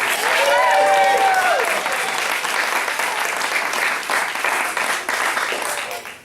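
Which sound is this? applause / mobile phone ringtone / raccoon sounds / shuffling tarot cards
applause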